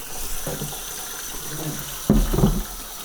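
Warm water runs from a tap to rinse out a garden weed sprayer, a steady hissing flow with a louder gush near the end.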